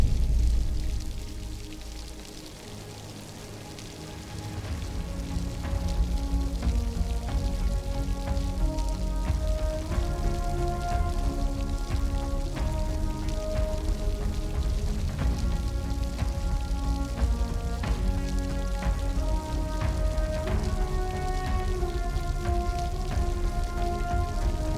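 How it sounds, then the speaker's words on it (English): Rain falls steadily outdoors in Glencoe, a dense hiss of drops on surfaces that builds after a quieter opening and stays loud and even, with no voices. "Right, rain's come in again, right enough."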